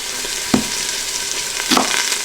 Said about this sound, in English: by browning the beef, you're gonna add another layer of flavor